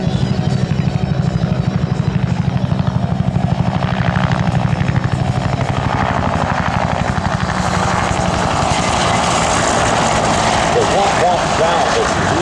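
AH-1 Cobra and UH-1 Huey helicopters at an air show, with loud, steady rotor chop and turbine roar held close throughout, and a faint voice underneath.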